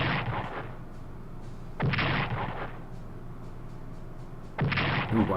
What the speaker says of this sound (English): Then we'll apply some bombardments from the air.